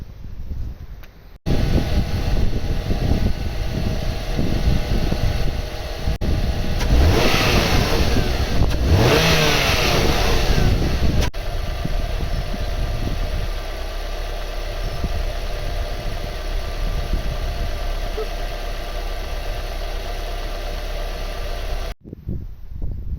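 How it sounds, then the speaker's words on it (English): A car engine undergoing an oil flush and Seafoam treatment starts, revs up sharply a couple of times, then settles into a steady, rumbling idle close by before cutting off. "we've let the engine sort of idle for a while, warm up, give it a couple of revs"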